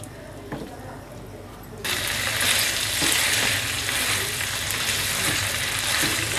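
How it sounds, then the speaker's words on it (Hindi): Boneless chicken, cut into inch-sized pieces, frying in hot oil for green chicken hariyali. A quieter stretch gives way to a loud, steady sizzle with scattered clicks from stirring. "अब इसको अच्छे से चिकन को इसमें भूनेंगे"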